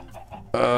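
Minecraft chickens cluck in a sudden burst after a brief quiet moment of game sounds, loud and close, with several overlapping calls.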